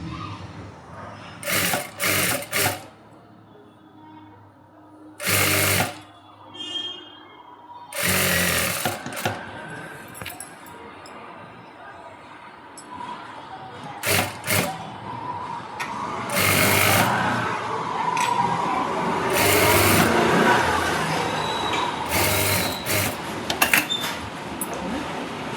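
A sewing machine stitches fabric pieces in several short bursts of close, rapid whirring separated by pauses, then a longer steadier run, with handling noise between the bursts.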